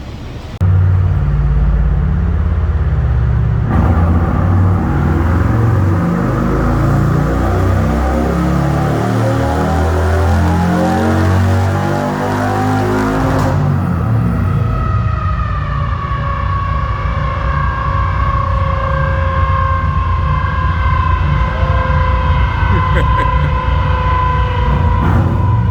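A 2021 Harley-Davidson Road Glide running on E85 makes a dyno pull. The loud, continuous engine roar rises steadily in pitch through the revs, then drops and settles into a higher steady whine.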